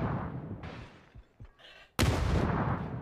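A grenade explodes in a PUBG esports match: scattered faint shots and quieter game sounds, then one sudden loud, broadband blast whose rumble lingers.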